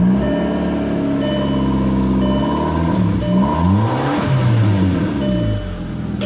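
A 2004 VW Passat engine, running right after a rear fuel filter change, idles and then revs up and back down, its pitch rising and falling, close and steady.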